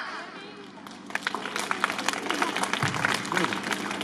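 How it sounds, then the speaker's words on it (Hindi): Audience at a play school annual day breaks into applause, clapping building from quiet to a sustained, dense crowd ovation that grows louder and continues steadily. "So ladies and gentlemen, please put your hand together."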